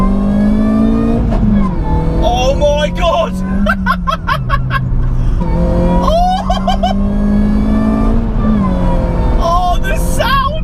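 Supercharged 216 bhp Ford Focus accelerating hard in second gear, a loud, steady engine drone climbing in pitch through repeated pulls, heard from inside the car with an excited voice exclaiming over it.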